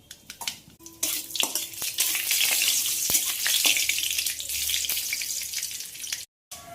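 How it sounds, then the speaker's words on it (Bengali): Dried chili and mustard seeds sizzle steadily in hot refined oil, a dense crackling fry with a few sharp pops and spatula clinks, ending in a brief drop to silence. "এবার এতে ফোড়ন দেবো একটা শুকনো লঙ্কা, আর দিয়ে দেবো কিছুটা পরিমাণে সর্ষে ফোড়ন।"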